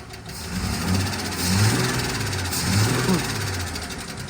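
A Ford F-150 pickup engine, restarted after sitting seven years, idles and revs in low, uneven surges without misfiring, steady throughout, with a voice speaking faintly over it.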